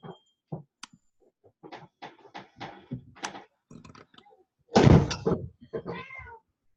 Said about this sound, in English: My cat had a need to come in and was going to make a lot of noise until that need got met.